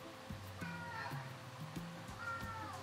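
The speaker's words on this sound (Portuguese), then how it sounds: "Ó, o safado miando." A cat meows a few times close by indoors in a bedroom, short tonal cries over a low steady hum, with someone talking around it.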